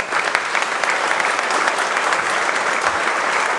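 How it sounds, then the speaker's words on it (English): Audience applause at an organization's annual meeting, a steady, dense wash of many hands clapping with no break and no voices on top. "Please acknowledge with your applause"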